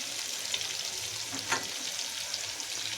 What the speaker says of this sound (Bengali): বন্ধুরা আলুটা লাল লাল করে ভেজে নেব